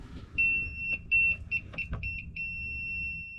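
A voltage tester pen held to a live wire in house wiring gives a series of high, electronic beeps, several short pulses then a sustained tone, fairly close with faint background noise.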